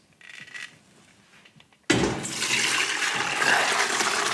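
Bone broth pours through a big strainer in a sudden loud rushing splash after a few seconds of quiet clatter, continuing steadily to the end.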